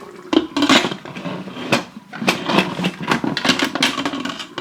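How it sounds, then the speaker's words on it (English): A metal Instant Pot lid is set onto the pressure cooker and twisted into place, giving a run of close, clattering metallic clanks and scrapes of varying loudness with no talking. "So I'm going to go ahead and put the lid on."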